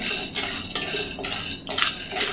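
Sandge (sun-dried lentil dumplings) roasting in ghee in a pan, stirred with a metal utensil that scrapes and clinks against the pan in uneven bursts over a steady frying hiss, with no talk.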